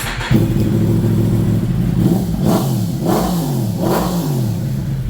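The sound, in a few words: sport motorcycle engine revving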